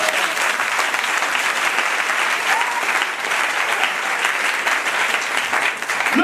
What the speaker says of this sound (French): On acclame ce prophète.